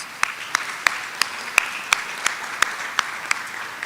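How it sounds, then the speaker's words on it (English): An audience at a credit union's annual meeting applauds with crisp, evenly spaced claps that stand out over a soft background wash for a few seconds. "Give yourselves a round of applause."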